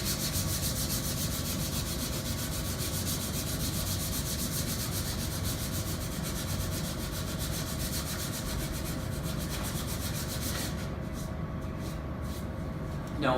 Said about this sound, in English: Now I'm switching over to 120 grit,